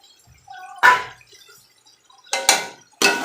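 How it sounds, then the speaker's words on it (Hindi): Chopped tomatoes drop into a pan of frying bhindi chicken in a few distinct wet thuds and clinks, close and sharp between quiet gaps. "टमाटर ऐड करेंगे।"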